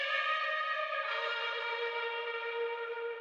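A guitar phrase from a beat sample rings out with heavy ambient reverb, a sustained, bright, harmonic tone that shifts pitch once about a second in and then holds, quiet and alone.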